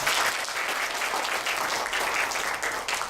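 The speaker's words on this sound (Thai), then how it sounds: "ขอเสียงปรบมือให้ตัวท่านเองนะยครับ" Seminar audience at a business talk giving continuous, even applause, a dense wash of many hands clapping without pause and no voices over it.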